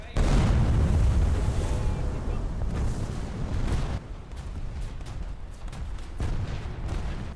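A heavy torpedo explosion hitting a ship in the War Thunder naval battle, a loud, deep boom right at the start that rumbles and rolls on for several seconds before thinning into lingering low noise.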